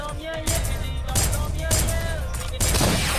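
Gunfire in a Roblox shooting game: dense bursts of shots at close range through the clip, mixed with game effects and a voice talking over it.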